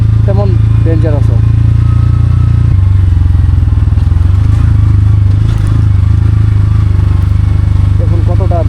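Motorcycle climbing a steep, dangerous mountain road in Bandarban between Thanchi and Tindu: a loud, steady engine drone close by, with scattered rattles and voices talking over it.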